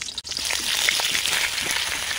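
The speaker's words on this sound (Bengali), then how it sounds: "এবার আলুগুলো আস্তে আস্তে ছেড়ে দেবো গরম তেলে।" Potatoes dropped into hot oil in a heated wok give off a loud, steady, hissing sizzle that runs without a break, close up.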